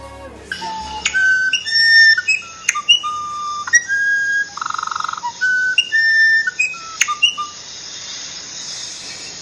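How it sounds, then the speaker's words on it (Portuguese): An Irapuru, the musician wren, sings a clear sequence of pure, flute-like whistled notes at varying pitches, separated by short pauses and heard close and distinct against a quiet background. "Este foi o canto de Irapuru."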